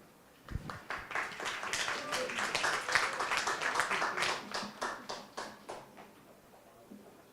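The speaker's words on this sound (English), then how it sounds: "Please give a big round of applause to welcome the team" An audience at a university business competition claps to welcome a team, a sudden burst that swells into dense, close applause and then tapers off over several seconds.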